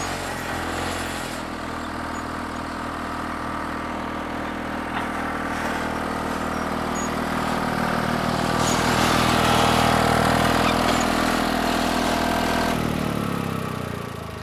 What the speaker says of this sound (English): He's actually crawling as we speak. This is an AC